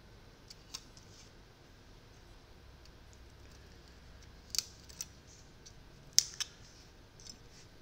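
Snipping of small plastic Microaces model kit parts from the sprue, a few quiet, sharp clicks spaced irregularly over a faint room hush, with the clearest snips clustered toward the end.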